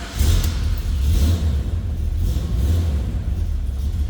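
The V8 engine of a 1972 Chevrolet Chevelle Malibu Convertible runs at idle with a deep, throbbing rumble and a few blips of revving, heard close and loud throughout.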